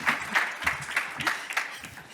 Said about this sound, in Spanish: le damos la bienvenida con un fuerte aplauso a Carina Gilbert